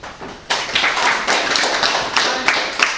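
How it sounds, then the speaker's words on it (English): Audience at a public meeting breaks into applause, a sudden burst of steady clapping from a crowd indoors that continues without talk. "I'm going to ask that the applause please be held so we can move on to the testimony."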